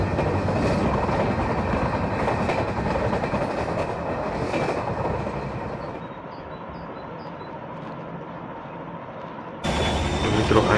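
At full speed, a WDM3D diesel locomotive in an Indian train video game roars with a steady engine drone and rhythmic wheel clatter, dropping quieter partway through before the full loud rumble returns near the end.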